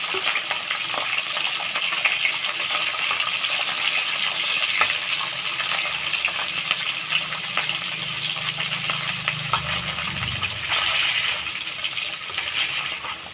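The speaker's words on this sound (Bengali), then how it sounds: "তারপর মাছটাকে ভেজে নিচ্ছি সঙ্গে কটা শুকনো লঙ্কা দিয়ে দিচ্ছি" A catla fish tail fries in hot oil alongside a few dried red chillies. A dense, continuous sizzle stays loud and close throughout, with faint stirring and no talking.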